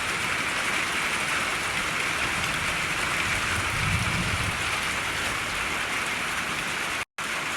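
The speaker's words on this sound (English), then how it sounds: "And we got rain." Steady rain pouring down, a dense even hiss of drops on surfaces, continuous and close, with a brief cut near the end.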